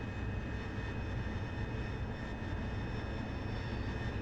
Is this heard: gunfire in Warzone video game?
no